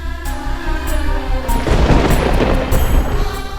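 Loud thunder rolls through a storm in a Hindi TV drama, a deep sustained rumble swelling over a soft musical bed and filling the scene with no voices.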